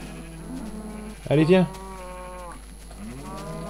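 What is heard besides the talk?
cows mooing in Minecraft video game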